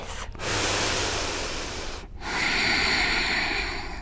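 Two loud, close breaths during a yoga flow class, a long airy exhale followed by another strong breath after a brief pause, with no speech.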